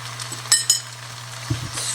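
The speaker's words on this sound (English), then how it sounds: "Stir it." A spoon stirring beef stew in a pot, with a couple of sharp metallic clinks against the side and a soft scraping swirl, faint and close over a low steady kitchen hum.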